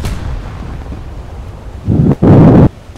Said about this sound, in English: And then the ship exploded.